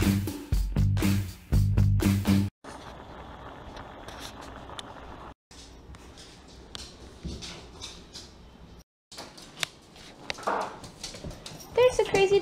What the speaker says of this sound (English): Crazy doggies playing with each other.